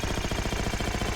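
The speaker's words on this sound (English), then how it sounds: "It's an assault rifle." An assault rifle fires in Halo 4 as a rapid, even stream of close automatic shots, each burst pulsing at a steady rhythm with no pauses and no talk.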